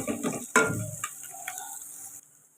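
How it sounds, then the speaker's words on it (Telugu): Onions and green chillies stirred in a hot pan for a potato tomato curry, with an opening sizzle and a sharp utensil scrape, then the frying fades to a quieter hiss before cutting out. "ఇలా కలుపుకొని ఫ్రై చేసుకోవాలండి ఇప్పుడు ఉల్లిపాయలు మనకి ఫ్రై అవ్వాలి"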